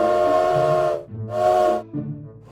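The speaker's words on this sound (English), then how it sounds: "that was a different whistle from a different engine" A steam locomotive whistle from a different engine sounds loud and close in a short-long-long-short pattern of clear harmonic blasts separated by brief gaps, with no talking.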